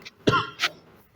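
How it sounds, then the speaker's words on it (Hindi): A man with a lingering winter cough gives a couple of short, close, rough coughs and throat clears indoors during a maths lecture, with no talk. "मुझे खांसी काफ़ी लंबी चल रही है"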